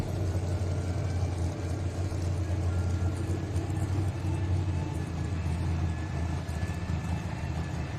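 Naturally aspirated mini rod engine at a truck and tractor pull, a continuous steady rumbling drone heard from a distance without a clear rise or fall in revs.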